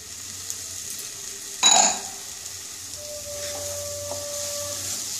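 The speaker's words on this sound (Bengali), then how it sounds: "এটাকে নাড়তে হবে।" Jaggery and coconut stirred in a pan for a pitha filling, with a soft sizzling hiss throughout and one louder scraping stir near the start, then quieter faint clinks.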